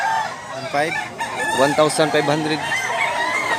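A ten-month-old rooster, a Dragon Pumpkin Hatch fowl, clucks and calls in several close, loud bursts while someone talks over it.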